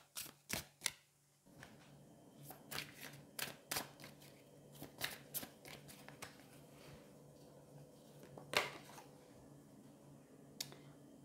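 Fallen Angels oracle cards are shuffled in quick, crisp bursts of riffling and snapping, close and fairly quiet, with short pauses between.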